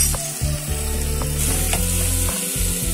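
Vegetable noodles with chili powder are stirred in a hot pan, giving a loud, close, constant sizzle with rhythmic scraping and tossing sounds and a low hum underneath.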